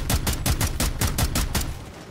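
Rapid gunfire from Rainbow Six Siege, a ranked match video game, sounds as a steady burst of about ten evenly spaced, loud, sharp shots. The shots fade slightly toward the end.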